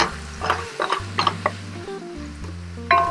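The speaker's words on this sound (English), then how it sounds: "You just want to keep that moving with that ginger and garlic in there" Garlic and ginger paste sautéing in a pot under a low steady sizzle, with close scraping and tapping of a stirring utensil every few moments.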